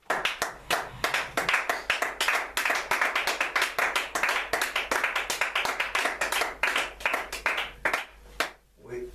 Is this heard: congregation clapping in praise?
yes